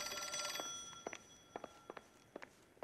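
In the video game L.A. Noire, an old-fashioned telephone bell rings briefly at the start, followed by a series of distinct footsteps moving closer at a steady pace.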